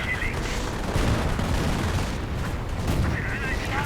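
Artillery barrages in a World War II real-time strategy match featuring Panzer Lehr units, dense overlapping booms and gunfire rumbling continuously beneath a commentator's voice.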